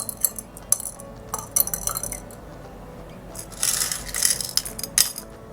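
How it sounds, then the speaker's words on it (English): Stones and marbles dropped into small bowls, giving scattered clicks and glassy clinks up close, in uneven bursts with a denser rattling cluster near the end. "put some stones and the marbles inside each bowl"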